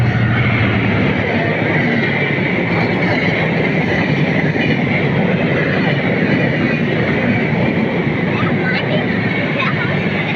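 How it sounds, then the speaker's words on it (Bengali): A train passes close by with a loud, continuous rumble and rattling clatter of wagons lasting the whole stretch, windy and dusty outdoors, with people talking over it. "এই যে ট্রেন আমাদের কাছাকাছি চলে এসেছে"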